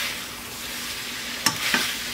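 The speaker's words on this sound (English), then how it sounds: "And then we're going to stir it in" Snow peas and other vegetables sizzle in a pan under a steady low hiss. Two short, sharp stirring scrapes come near the end.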